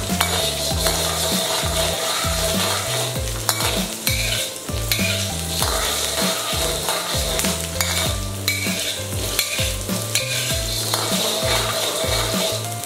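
Garlic stir-fried in hot oil in a wok for a home-style duck dish, loud continuous sizzling broken by rhythmic, repeated metal spatula scrapes and knocks against the pan, close up and with no voices.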